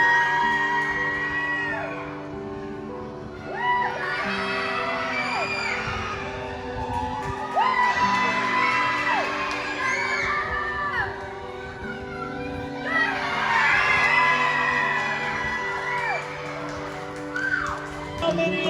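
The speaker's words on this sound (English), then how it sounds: "Dickinson, I was told, has a really crazy crowd" A rowdy rodeo crowd in Dickinson whoops and cheers in repeated swelling waves, with shouts rising over a continuous din and voices mixed in throughout.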